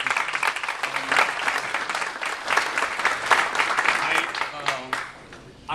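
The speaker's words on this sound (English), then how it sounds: "So thank you, Asriel, for giving a big applause." Audience applause at a Cafe con Leche community event in Perth Amboy, a dense, steady clapping crowd that carries strongly for about five seconds before tapering off near the end.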